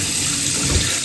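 A tap runs in a continuous, fairly loud stream for about a second, drawing water for a straight razor shave, with no talk.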